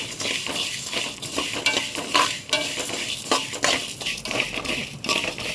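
Vermicelli frying in hot ghee while being stirred, with repeated scraping strokes of a utensil against the pan over a continuous sizzle.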